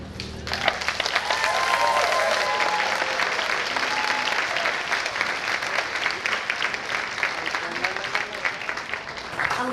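After a vocal performance, an audience breaks into sustained, dense applause, a loud and even roar of many hands clapping throughout, with faint voices mixed in.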